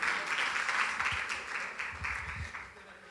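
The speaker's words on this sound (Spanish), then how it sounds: "Un aplauso para Adrián" Soft applause from a church congregation for Adrián, a brief patter of clapping that fades over about three seconds, fairly quiet and distant.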